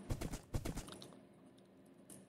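Horse hooves clip-clop in a blocky Minecraft-style video game, two quick clusters of sharp close hoofbeats that then fade to a faint quiet tail.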